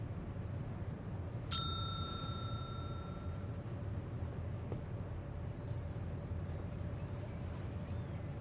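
In the adventure game Secret Files 2, a single clear bell ding rings out and its tone fades over about two seconds, above a low steady background hum.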